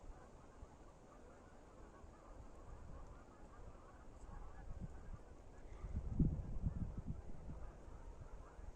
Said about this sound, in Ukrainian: Але ще чуєте, гуси гелготять?